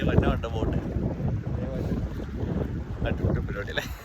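A remote-controlled fishing bait boat carrying a 500 m line runs out over open water, its faint motor hum buried under steady, gusty wind buffeting the microphone for the whole stretch.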